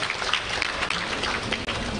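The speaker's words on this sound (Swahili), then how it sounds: "naomba tumpigie makofi pia" Clapping from the audience at the opening of the 46th Sabasaba international trade fair, a brief, dense burst of applause from a crowd.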